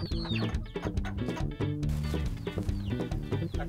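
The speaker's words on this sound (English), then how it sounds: "So, Priscilla, what kind of chickens do you keep? Local chickens." Local chickens on a small farm flock of about seventy birds cluck repeatedly and busily, close and loud, with overlapping rhythmic clucks throughout and a higher call near the start.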